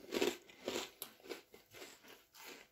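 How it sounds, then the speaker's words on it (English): Close, crisp crunching of pizza-flavoured chips being bitten and chewed, a series of sharp crackling bites settling into a rhythmic chewing pattern, quiet and intimate with no talk. "It's really crunchy."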